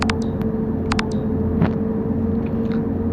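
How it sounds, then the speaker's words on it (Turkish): A low, steady video game bus engine rumble runs throughout, broken by a few short sputtering clicks and pops like a spark plug or carburetor fault. "Araba bujide karbüratörde sıkıntı varmış gibi ses çıkarıyor"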